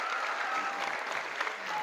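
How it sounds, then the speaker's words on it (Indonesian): An audience at a motivational event at an Islamic boarding school claps in brief, dense applause that carries steadily throughout. "Tepuk tangan untuk kakak kita yang bicara."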